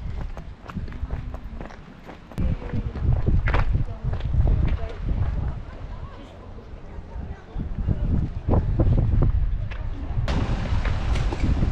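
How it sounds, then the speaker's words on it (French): Wind buffets a microphone outdoors on a coastal hiking path near Cancale, France, in uneven gusts, with rumbling bursts and a brief voice near the start. "il y a du vent ici aussi."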